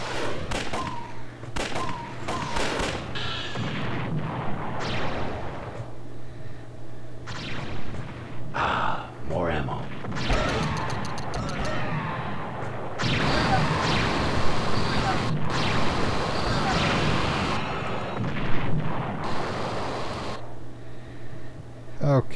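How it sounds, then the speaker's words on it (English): Mortar fire in the Army Men toy soldier game's space battle mode: thumping impacts and bursts of gunfire scattered through the scene, mixed with game effects and someone talking over them. "Okay, someone has mortars, that's for sure."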